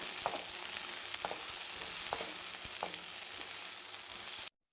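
Garlic fries in a pan with a steady, hissing sizzle, marked by a few light stirring clicks, close by, before cutting off abruptly.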